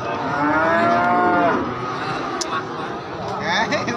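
Limousin and Simmental cattle at an Indonesian cattle market moo loudly in a long drawn-out call, then softer lows follow amid background crowd chatter.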